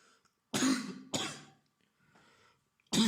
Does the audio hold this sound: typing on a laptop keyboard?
no